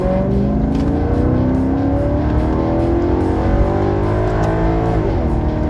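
A Maserati Quattroporte engine in sport mode revs and pulls hard as it accelerates on a Los Angeles freeway, the growl climbing in pitch through the gears over steady road and wind noise.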